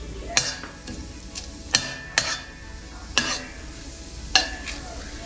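Fennel seeds, cinnamon, cardamom and cloves fry in hot coconut oil with a close, steady sizzle, broken by several sharp metallic taps and scrapes of a spoon against the pan.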